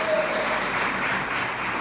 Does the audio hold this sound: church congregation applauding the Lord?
yes